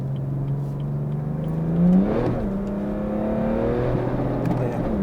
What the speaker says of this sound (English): Sounds pretty nice, and this has got a straight through exhaust on as well.